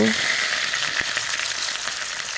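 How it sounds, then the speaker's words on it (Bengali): Onion and green chillies fry in hot oil in a wok, giving a loud, steady sizzle that continues throughout with a brief louder crackle near the start and no talking. "কড়াইতে তেল বসিয়ে দিলাম তেলটা গরম হয়ে গেল এখন পেঁয়াজ কাঁচা লঙ্কা দিয়ে দেব"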